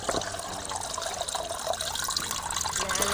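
Water is poured into a pot while cowpeas (karamani) are being cooked, a dense continuous splashing and trickling close by, with no talk over it.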